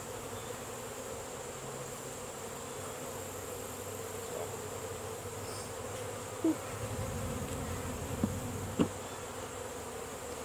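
Honeybees buzz around a small nucleus hive outdoors, a faint, steady drone holding for about ten seconds, with a few brief clicks near the end.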